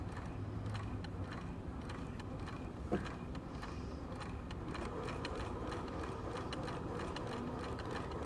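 A sewing machine stitches a gather at stitch length 4, a steady mechanical rattle and whirr of rapid needle strokes running close and continuously, with one brief click partway through.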